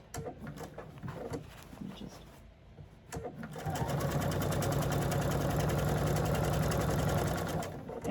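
Close to the microphone, a sewing machine runs a long quilt seam, its needle chattering rapidly for several seconds after some handling noise and brief talk.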